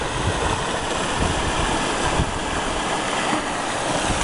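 Strong gusting wind roars through trees during a gold prospecting sluicing session in a windstorm, a loud, continuous broadband rush with slight surges and no voices.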